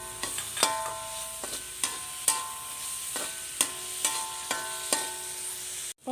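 Crushed shallots and sliced onions frying in oil in a pan, a steady close sizzle broken by repeated sharp scrapes and knocks of a stirring spoon against the pan, with no voices.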